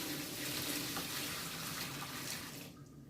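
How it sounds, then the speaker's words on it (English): Hot pasta water is poured out of a pot into a strainer, a steady gushing rush of liquid that stays even and fairly quiet, then cuts off sharply at the end. "Alright, so we're just going to strain this. Get all that water up out of there."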